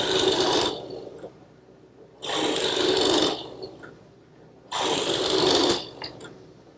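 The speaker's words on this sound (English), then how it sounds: "I'm going to use a plug cutter, which is a tool like this, set up in my drill press" A drill press fitted with a plug cutter cuts into scrap wood in three separate bursts of harsh, whirring grinding, each lasting about a second, with a quieter motor hum between.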